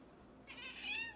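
A domestic cat asking for food gives one short, clear meow close by, rising then falling, in a quiet room.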